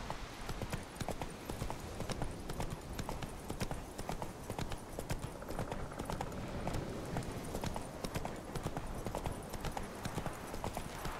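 A horse clip-clops at a steady trotting rhythm through the whole stretch in The Witcher 3: Wild Hunt, the hoofbeats moderately loud over a soft ambient game backdrop.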